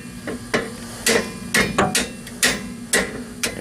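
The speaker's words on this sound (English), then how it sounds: "So we're just gonna tap this out" Hammer tapping a rear brake caliper out of its mount on a 2007 Ford Crown Victoria Police Interceptor: about ten sharp metallic strikes in an irregular rhythm, close and loud, with no voices.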